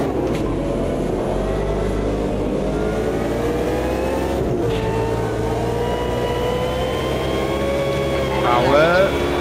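Unicorn mod race car in the Automobilista 2 sim at Zolder, rear-wheel drive and light, with a loud continuous engine drone that rises and falls through the gears while someone talks over it.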